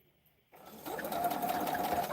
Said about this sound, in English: I'm just sewing these to sew these.